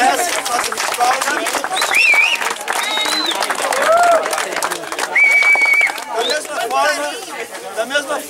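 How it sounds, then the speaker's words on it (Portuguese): An outdoor crowd at a football tournament's closing ceremony applauds amid lively chatter and whistles, with voices and clapping mixing loudly and close throughout. "uma salva de palmas para a Dona Nilma"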